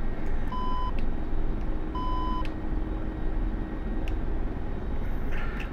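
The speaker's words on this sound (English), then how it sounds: "you hear that beep" Two short electronic weapon-release beeps in the cockpit of an Mi-24 Hind attack helicopter in the DCS flight simulator, sounding at a steady rhythm over a loud, constant rotor and engine drone while hovering.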